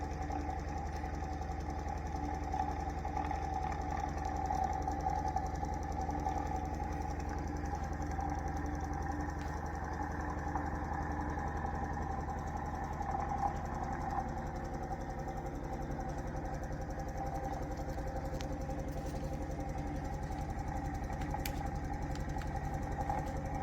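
A magnetic switching motor on a 13-bearing rig runs steadily at full power, giving a smooth continuous hum with a faint rhythmic knock. It stays level throughout with no one talking.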